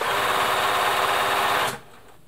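A Bernina 1030 domestic sewing machine runs at high speed with a fast, even mechanical whir, close and steady, then stops abruptly just before the end.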